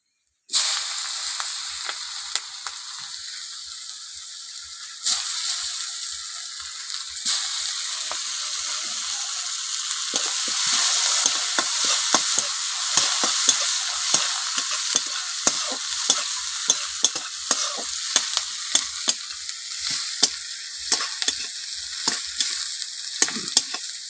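Onion sizzles in hot oil in a pan with a dried red chilli and five-spice seeds, a continuous bright hiss punctuated by frequent sharp scrapes and taps of stirring, close and without talk.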